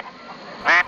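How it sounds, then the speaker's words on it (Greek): Ducks in a ditch let out one short, loud burst of quacking near the end, after a quiet stretch. "Πι-πι-πι, φώναξαν και οι πάπιες μέσα από το αυλάκι."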